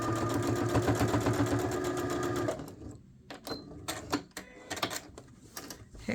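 A sewing machine runs a steady, loud stitching burst on a sweatshirt, then breaks into short intermittent runs and clicks for the rest of the clip.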